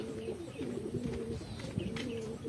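Pigeons coo softly at a racing-pigeon loft, low rolling coos repeating several times at moderate distance, with faint chirps in the quiet background.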